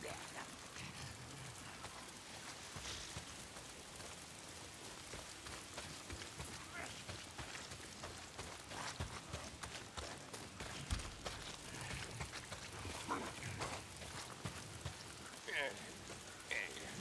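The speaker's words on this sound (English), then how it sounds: "Damn rain." Steady rain patters across surfaces in the open world of the game Days Gone, a soft, continuous hiss with scattered drop impacts, faint and unbroken, with a voice talking over it.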